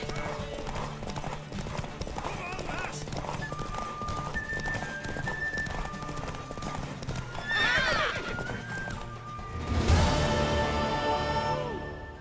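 Horse from The Witcher 3 gallops with steady, loud clip-clop hoofbeats and gives a sharp whinny partway through, all set against game music and ambient sound.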